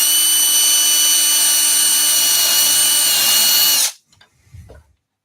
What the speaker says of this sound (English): Just going to go off camera again quickly to drill this.